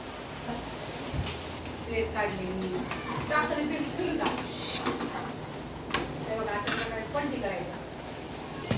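Thalipeeth flatbread roasting with oil on a griddle, a soft continuous sizzle with occasional scrapes and taps, under intermittent talking.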